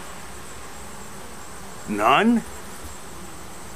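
Honeybees at a hive entrance being checked for Varroa mites, with a soft steady hum throughout and one louder close buzz as a bee passes near for about half a second.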